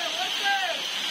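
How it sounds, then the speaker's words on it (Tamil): A hidden waterfall in Kanyakumari gives a continuous, broad rushing roar, steady and close, with a voice speaking briefly over it. "பாத்தீங்கன்னா நம்ம இந்த அருவி கிட்ட வந்துட்டோம்"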